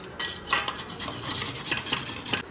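An onion is rubbed over a grater for juice, giving a continuous rasping scrape with small rhythmic surges, close and moderately loud with no talking.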